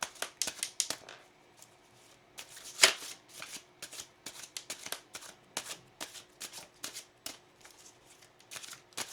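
A deck of tarot cards shuffled by hand in a quiet room, a rapid series of crisp riffling flicks and taps repeating in bursts, close and fairly soft.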